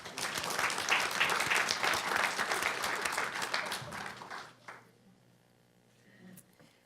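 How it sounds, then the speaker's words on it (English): A room full of people clapping steadily for several seconds, then the applause fades out into near quiet. "Let's give her a round of applause."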